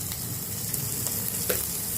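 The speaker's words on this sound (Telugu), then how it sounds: "పచ్చివాసన పోయేంత వరకు వేయించాలి." Ginger garlic paste frying with chicken in a pan for a country-chicken curry, a steady dense sizzle with a few faint scrapes, continuous and close, with no voices.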